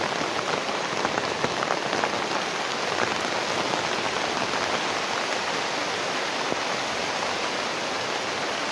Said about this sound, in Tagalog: Lalong lumalakas yung ulan, no?